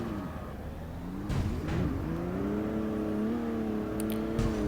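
A BMW M4 drifts in the CarX Street racing game, its engine revving with steady, tonal growls that rise and fall as the car swings side to side, loud and continuous with no voices.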